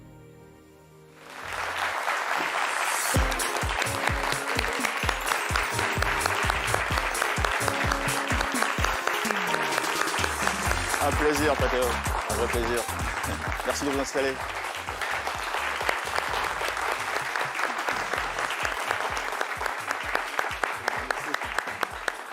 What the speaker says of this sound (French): Un standing ovation bien mérité pour ce grand monsieur